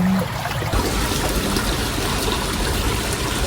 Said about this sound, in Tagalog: Pinalalabas na po niya itong tubig.